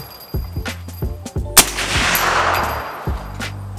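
A suppressed Q Fix 6.5 Creedmoor rifle fires outdoors at a range, one loud, sharp report followed by a rolling echo, with smaller clicks and handling sounds around it and no talk.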